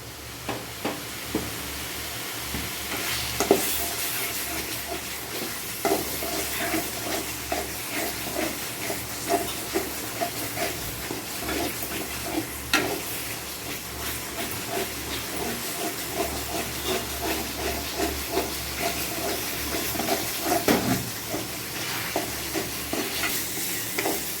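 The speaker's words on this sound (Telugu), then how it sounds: "పచ్చి వాసన పోయేంత వరకు బాగా వేయించుకోవాలి." Garlic, ginger, tomato and onion paste frying in oil for a chicken curry, a steady hiss and sizzle with frequent scraping stirs against the pan throughout, close and fairly loud, with no talking.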